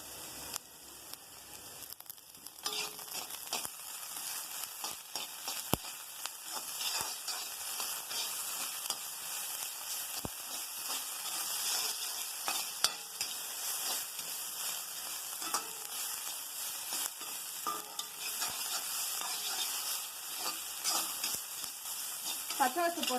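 Ginger garlic paste sizzling and frying in a hot pan while being stirred, a steady crackling hiss punctuated by spoon scrapes and clinks, close and fairly quiet, with a voice speaking intermittently.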